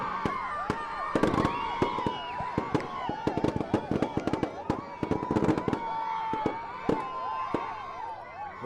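Rapid bursts of firecrackers crackle and pop in irregular clusters, loud and close, over a background of cheering voices and crowd noise, set off by boat owners celebrating at a boat race in Mathagal, Jaffna.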